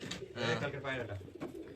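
A newly caught domestic pigeon gives soft, low cooing close by, in a few brief phrases with a person speaking nearby.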